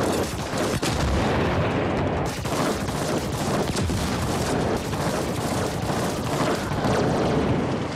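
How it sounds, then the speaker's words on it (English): Burst-fire weapon shooting in the sci-fi action game The Ascent, a continuous loud barrage of rapid gunfire and explosive booms filling the whole stretch without pause. "this is burst fire"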